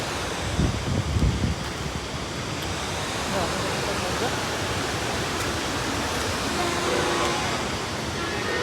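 Steady broadband rushing of falling water at Rupse waterfall in Nepal fills the scene, constant and fairly loud, with a few brief low thumps near the start.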